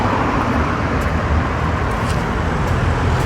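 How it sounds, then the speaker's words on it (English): Road traffic beside a car park at the Scarborough seaside makes a steady, loud broadband roar of passing vehicles, continuous throughout with no talking. "Excuse the road traffic"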